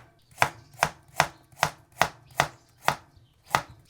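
A carrot is chopped on a cutting board for a Cambodian chicken stuffing, with eight crisp knife strikes landing in a steady rhythm about every half second. The cuts are close and clear, with no talking.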